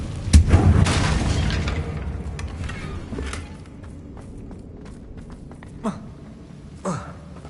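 A Confringo blasting spell goes off in Hogwarts Legacy as a loud, booming blast at the start. Quieter pops, bursts and scuffing footsteps follow over the next several seconds.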